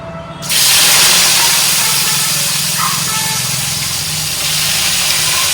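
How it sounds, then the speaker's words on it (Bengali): A loud sizzle bursts in as potatoes hit hot oil in a pan, then a steady frying hiss continues close by without talk. "বসাবো একটুখানি আলু ভাজা"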